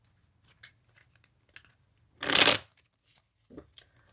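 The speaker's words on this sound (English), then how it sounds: "let me shuffle" Tarot cards being shuffled: one short, crisp riffle burst near the middle of an otherwise quiet stretch, with a few faint taps and ticks before and after.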